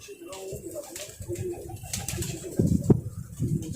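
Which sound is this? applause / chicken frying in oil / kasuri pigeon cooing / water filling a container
kasuri pigeon cooing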